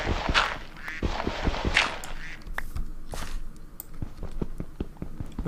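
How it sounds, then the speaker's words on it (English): A duck in a Minecraft-style survival video game gives two loud quacking bursts near the start, followed by clicking footsteps and faint ambient game sounds. "That duck's laughing at me."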